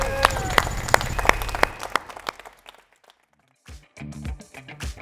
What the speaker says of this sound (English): A little round of applause for them as well.